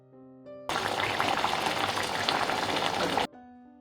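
An egg avial curry boils hard in a pan, a dense bubbling roar that starts abruptly once the lid comes off and cuts out sharply about three seconds later, with a faint hum before and after.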